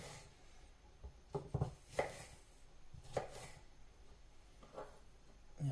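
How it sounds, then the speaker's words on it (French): A knife cuts a small tomato into quarters on a board, a few crisp, close chopping taps spaced irregularly over a few seconds, fairly quiet, with no talking. "Moi, je la coupe en quartier."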